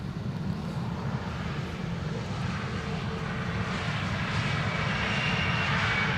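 Saudia Boeing 747 freighter landing at Amsterdam Schiphol: a loud, steady roar of big jet engines rumbling and hissing, fairly close, growing slightly brighter toward the end.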